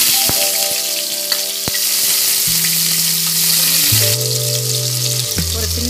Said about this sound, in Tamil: நல்லா வந்து வெங்காயத்தை நல்லா வதக்கிட்டு தக்காளியும் போட்டலாம்